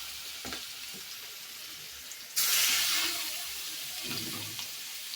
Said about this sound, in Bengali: মাছের ডিম ভাজবো